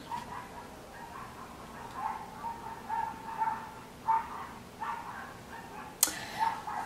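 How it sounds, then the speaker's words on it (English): Several dogs bark repeatedly in the distance, heard from a sixth-floor apartment, a string of yelping, high barks with a sharp burst near the end, faint and echoing. "Those dogs are not having it."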